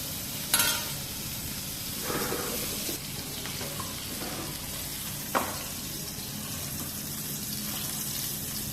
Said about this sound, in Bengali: একটু নাড়াচাড়া দিয়ে দিই